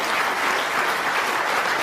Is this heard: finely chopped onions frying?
no